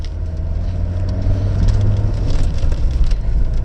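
An Audi 100 C3 Avant with a non-turbo diesel engine drives over a bumpy field. The engine gives a rough, agricultural drone, and the suspension thumps and creaks beneath it at close range.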